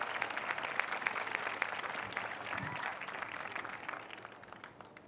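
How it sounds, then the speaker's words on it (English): Audience at a library dedication ceremony applauding the staff, a dense, crackling patter of many hands that holds steady, then tapers off and fades toward the end. "Give them a rousing round of applause."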